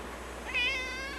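A cat meows once, a short rising-falling call that stands out clearly over a quiet, steady background hum.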